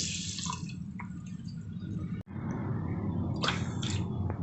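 Water is poured into a mixture of fine semolina and sugar for a sweet flatbread dough: soft trickles and drips, a brief break, then a louder splashing burst near the end. Nobody speaks.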